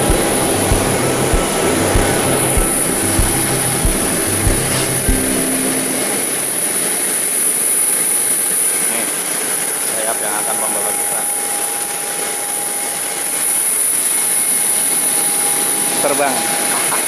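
Lion Air Boeing 737-800 jet engines on the runway at Samarinda, a steady loud whine and roar that continues throughout, with a low rumble fading after the first few seconds.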